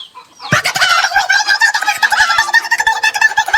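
Chicken clucking and rooster-like calls begin abruptly after a short pause, a busy run of repeated squawks and clucks, loud and close, with no speech.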